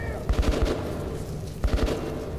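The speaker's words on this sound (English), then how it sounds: "What are they shooting at?" Two short bursts of rapid automatic gunfire from a firefight in Metro: Last Light Redux, each a quick rattle of several shots at mid distance, separated by a pause over a low ambient bed.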